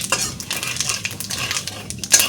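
Cumin seeds fry in hot oil with a soft crackling sizzle, and close metallic clinks and scrapes of a stirring utensil run through it.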